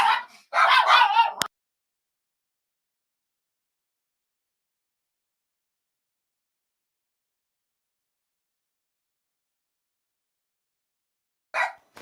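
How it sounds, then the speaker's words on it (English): Dogs in an office bark in a couple of short, sharp bursts at the start, then there is silence, with one more brief yip near the end, close and fairly loud. "Now I have barky dogs in my office."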